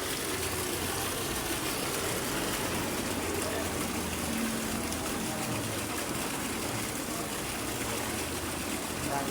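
Pressurised water rushes continuously from a hose, a dense, steady broadband gush with no breaks, filling the whole span at a constant loud level.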